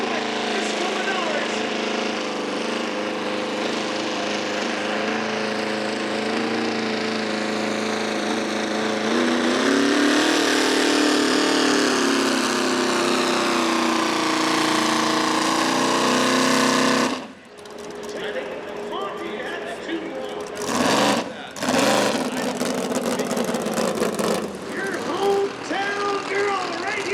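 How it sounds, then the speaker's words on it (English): A 454 cubic inch big block Chevy engine powers a pulling tractor at a county fair truck and tractor pull, roaring loud and steady for about seventeen seconds before cutting sharply, then surging again in bursts. "tractor she calls Twisted Sister. 454 cubic inches, big block Chevy."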